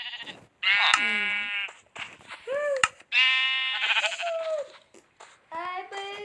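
Several sheep in the video game Minecraft bleat in quick succession, loud and close, with wavering cries separated by brief pauses over about six seconds.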